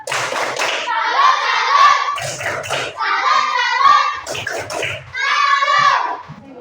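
A class performs a 'tepuk salut' clapping chant, three bursts of rhythmic group clapping with children's voices chanting, separated by short pauses and low thumps.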